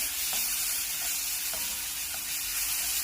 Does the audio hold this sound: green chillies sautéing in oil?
yes